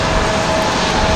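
Airliner arriving at Raleigh-Durham airport on a windy day, a loud steady engine roar with a whining tone, close and continuous throughout.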